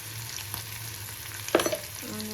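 Onions fry with homemade garam masala and turmeric in a pan, a steady close sizzle broken by a few scraping stirs and a brief metallic clink, with no talking.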